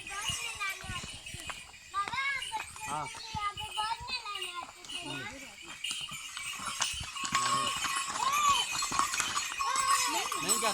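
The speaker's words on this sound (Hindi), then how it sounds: "घोड़ा आ गया" A horse arrives along a hilly mountain path with hooves clip-clopping over busy chatter, including children's voices, and the commotion swells toward the end.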